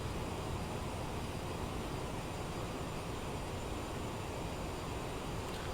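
Jet engines of a CRJ-700 regional airliner in a flight simulator, a steady, dense roar of broadband engine noise that holds even and continuous, with no voices.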